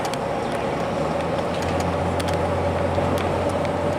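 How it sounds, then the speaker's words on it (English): A semi truck downshifts on a highway, its engine rumbling low and swelling slightly partway through, heard over steady road and traffic noise. "Semi heard you downshift."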